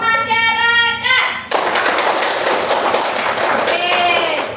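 Voices chant briefly, then a crowd breaks into loud, dense applause that continues steadily, with voices rising faintly near the end.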